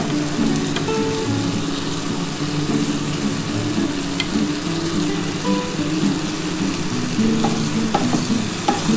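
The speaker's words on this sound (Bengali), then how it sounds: "এবার আমি বেগুনটা দিয়ে দিলাম।" Eggplant pieces sizzle steadily in hot fish oil with fried onion while a spoon scrapes and stirs through the pan, loud and close, with no voices.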